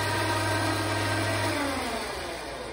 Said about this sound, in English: So it's Harbor Freight winch.